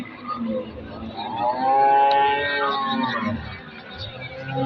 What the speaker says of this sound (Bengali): বিশাল বড় গরু কিন্তু তো এইরকম কিন্তু অনেক গরুই হাটে উঠছে